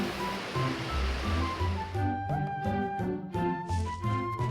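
Water washes over the crops when a rock is moved in Harvest Moon: A New Beginning, a steady rushing, surf-like wash with soft game music tones layered over it.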